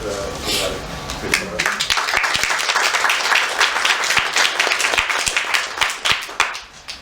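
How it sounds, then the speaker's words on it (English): An audience claps for the panelists of a discussion on European identity, the applause building quickly after a voice at the start, then a dense patter of hands with distinct individual claps that thins out toward the end. "let's have an applause for all our panelists."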